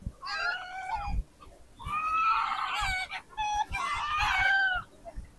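Native chickens at a chicken shop in Kuwait give loud, close clucking and crowing calls in several bursts, with short pauses between them.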